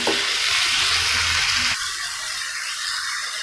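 Chopped tomatoes hit a pan of ginger and garlic, giving a loud, dense sizzle that dips a little partway through and carries on steadily.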